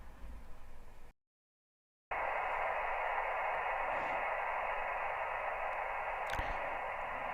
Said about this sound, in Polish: Biały szum uspokaja dzieci, uspokaja też krótkofalowców.